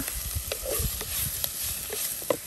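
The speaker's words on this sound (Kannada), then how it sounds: "ಒಂದು ಸ್ವಲ್ಪ ಹೊತ್ತು ಇದನ್ನ ಹೀಗೇನೆ ಫ್ರೈ ಮಾಡುವ" Dried shark fried in a pan with softened onions for a Mangalorean kadle sukka, giving a steady low sizzle with scattered stirring scrapes and clinks, moderately close and with nobody talking.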